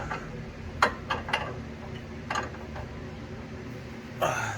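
A size 17 wrench works a sway bar link bolt on a 2006 Honda Civic Si, producing a few scattered, sharp metallic ticks and clicks at irregular intervals over a low background hum.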